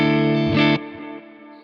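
A clean, Fender-like electric guitar through a Nano Cortex Tone King Imperial capture with delay and reverb, a bright chord that is struck, shifts, then cuts off and leaves a fading echoing tail, close and full.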